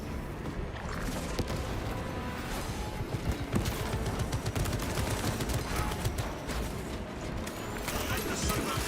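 Servo gun firing in Space Marine 2 during a fortress siege, rapid dense bursts of gunfire in a busy battle mix with overlapping impacts, loud and continuous, with voices talking over it.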